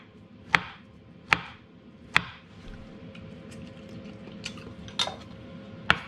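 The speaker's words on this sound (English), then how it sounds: "I'm simply just going to chop these into slices" A knife slices bananas on a board in sharp, separate chops, about six over several seconds at an uneven pace, close and clear against quiet room noise.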